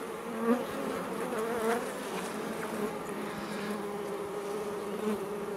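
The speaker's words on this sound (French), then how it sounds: "Il y a des abeilles qui rentrent dedans" Honeybees hum in a dense, continuous buzz around the hive of a newly collected swarm, close and steady, with no voices over it.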